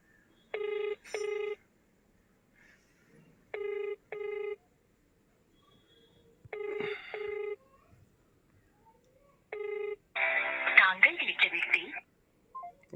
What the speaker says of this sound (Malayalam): ഒന്നുകൂടി വിളിച്ചു നോക്കാം റിങ് ചെയ്യുന്നുണ്ട് പക്ഷേ